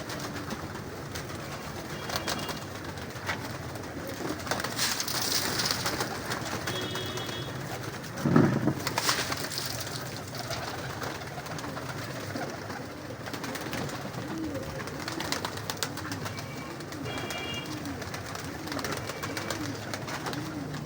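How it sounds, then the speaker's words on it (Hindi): Pigeons coo steadily throughout a crowded breeder's loft in Lahore, soft repeated calls layered with a brief louder flutter and bump midway, no talking. "ये देखें माशाल्लाह खचा खच भरे हुए हैं कबूतर"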